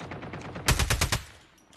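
Rapid automatic AK-47 fire in the Call of Duty Mobile battle royale, a burst of about six close, loud shots in quick rhythm after a softer stretch of distant rattling.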